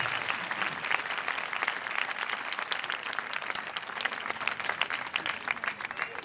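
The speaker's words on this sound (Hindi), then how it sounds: "हम जोरदार तालियां बजा के एक दूसरे को मुबारकबाद पेश करते हैं।" A church congregation at St Thomas Parish in Malir, Karachi, applauds at its 34th annual pilgrimage. The clapping is dense and continuous, steady and fairly distant, with a faint murmur of crowd noise and no talk over it.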